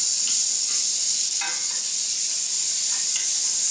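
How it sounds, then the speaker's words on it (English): Onions, celery and carrots sizzle steadily in hot bacon drippings, a loud continuous frying hiss with a few faint stirring scrapes partway through. "I'll use the drippings to saute the mirepoix, the flavor builder, onions,"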